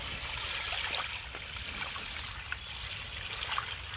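Water pouring and trickling steadily against a house foundation wall from a free-flowing waterproofing drainage system, a continuous close hiss of running water with small splashy bubbles, no talk.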